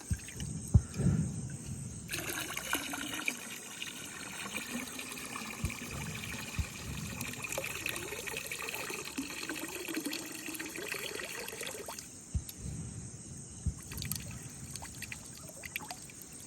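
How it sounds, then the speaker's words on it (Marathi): Rice being washed in water outdoors by a river, with a sustained swishing and sloshing of grains in a pot, quieter trickles at the start and end, fairly close and steady. "भात धुवून घेऊया पटापट."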